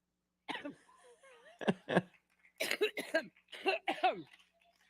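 A woman coughs in a series of harsh, repeated bursts, clearing her throat between them, close and clear against a quiet background.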